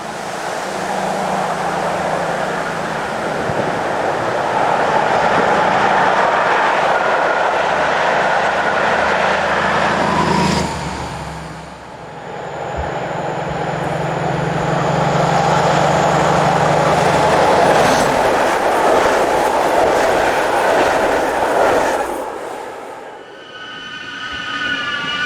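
Diesel passenger trains hauled by Class 218 locomotives pass close by on a German line in April showers, loud sustained rumbling and wheel squeal in two long swells with a brief dip between, no voices.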